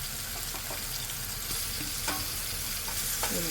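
Cumin seeds and crushed garlic sizzle in hot tempering oil for a fish curry, a close, continuous crackling fry with small bursts of stirring.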